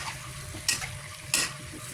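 Potatoes and carrots are stirred into chicken adobo frying in a pan, with a continuous sizzle under two sharp scraping stirs of the utensil against the pan, close and clear, without any talking.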